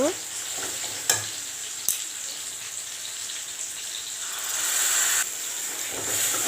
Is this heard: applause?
no